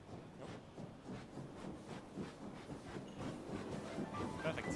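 A magical train in a video game trailer rumbles and clatters steadily with rhythmic clicking, moderately loud and growing slightly toward the end, heard through room playback.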